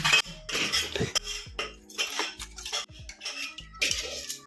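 A metal spoon clinks and scrapes against dishes while being rinsed after cooking Maggi noodles, with several irregular close clatters and short splashes of water between quieter pauses.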